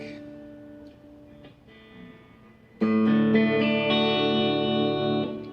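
A modded Firefly 335-style electric guitar played on the neck pickup, a few soft notes first, then a fuller, warm strummed chord ringing out loudly for several seconds.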